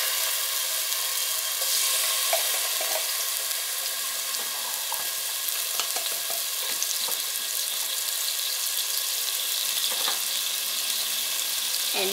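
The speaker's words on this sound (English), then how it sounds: "Add some garlic." Garlic frying in a pan for spinach egg fried rice, a continuous steady sizzle and crackle close by with occasional light stirring clinks.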